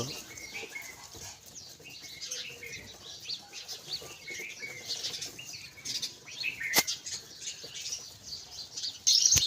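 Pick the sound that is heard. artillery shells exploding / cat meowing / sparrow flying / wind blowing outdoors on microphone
sparrow flying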